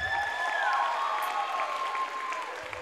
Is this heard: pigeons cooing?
no